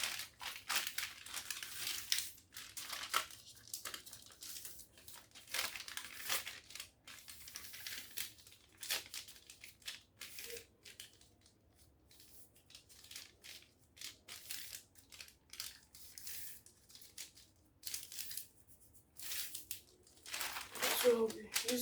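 Crinkly rustling and crumpling of fabric as a zipper allowance is folded in while sewing a pencil skirt, in irregular bursts with quiet pauses, close by.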